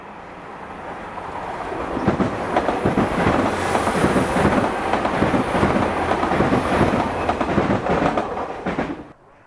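A Class 802 IET, unit 802 004, runs past on a local service from Penzance to Plymouth, a loud sustained rumble with rhythmic wheel clatter that builds, holds close, then cuts off abruptly.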